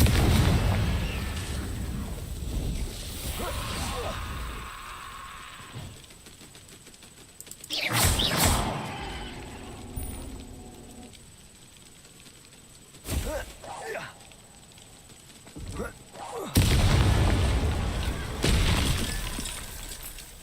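Confringo blasting spell explosions in the video game Hogwarts Legacy burst in three loud, sharp blasts with crackling debris tails, separated by quieter game ambience and voices talking.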